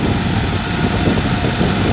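Massey Ferguson 385 tractor engine, a 2018 or 2019 model, running steadily with a dense low rumble that holds close and loud throughout, with no speech over it.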